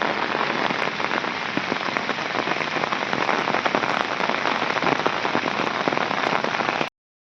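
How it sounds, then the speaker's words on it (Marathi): Heavy monsoon rain over farm fields in the Konkan pours down steadily, a loud, dense hiss of drops drumming on surfaces that cuts off abruptly at the end. "पाऊस जोरात येऊ लागलो"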